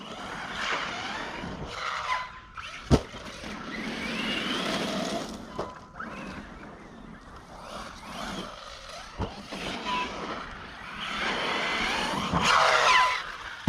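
An HNR X-Mars RC car on a 4S setup skidding during a test run: surging motor whine and gritty tire scrub that come and go in bursts, with a few sharp knocks, mid-distance and moderate in level.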